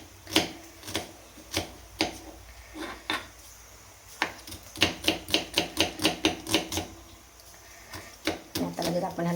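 A blunt kitchen knife chops onion finely on a board in a home kitchen, producing quick, sharp taps that come in bursts and then speed into a rapid run, close and clear.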